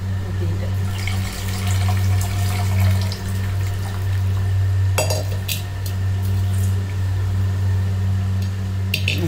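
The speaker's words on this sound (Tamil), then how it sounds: "புளியை கரைச்சிட்டு ஊற்றிக்கிட்டேன்." Dissolved tamarind water is poured into a pot of curry in a home kitchen, a continuous close splashing pour with occasional clinks of utensils over a low steady hum.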